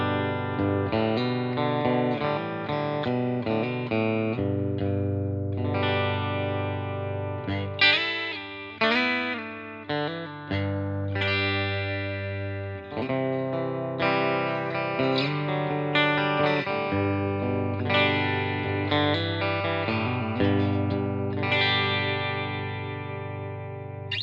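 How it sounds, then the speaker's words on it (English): Clean electric guitar on the bridge pickup of a Vintage V75 in Silverburst, ringing chords and picked chimey notes played steadily and up close with no talk, colored by an effects unit adding chorus and light reverb. "we'll start off with some clean tones on the bridge pickup"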